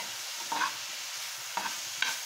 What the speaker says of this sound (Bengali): এটাকে আমি ভালো করে নেড়ে নেড়ে ভেজে নেব